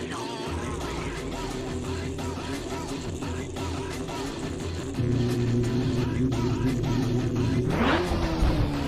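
Lamborghini V10 engine in the racing game Assetto Corsa, a loud, continuous high-pitched engine drone that holds steady, steps up in pitch, then sweeps upward in a sharp rev near the end.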